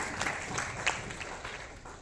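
An audience at a training seminar applauds for the social media team, a faint, steady patter of clapping heard from a distance.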